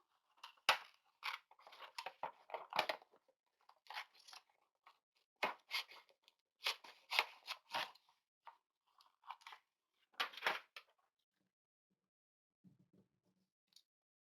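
Scissors snip through paper while cutting out printed images for a collage: clusters of crisp, close cuts come in uneven bursts with short pauses between, and no one talks.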